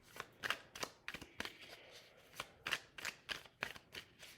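Tarot cards being shuffled by hand, a steady run of crisp riffling bursts, close and fairly quiet, with no voices.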